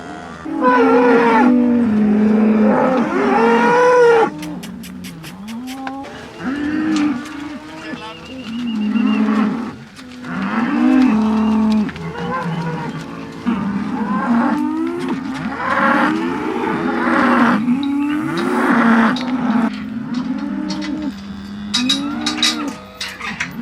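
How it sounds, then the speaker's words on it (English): Several close-up dry dairy cows moo loudly and repeatedly while being moved into a maternity barn, their long calls overlapping in a steady run with no talking. "they're now moving these cows right here, which are our close-ups dry cows that are coming into the maternity barn."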